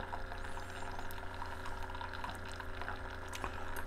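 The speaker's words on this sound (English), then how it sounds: "I'll add a little bit of water to it." Hot water poured into a cup of espresso to make an Americano, a steady soft trickling stream lasting a few seconds, faint and close with no talk.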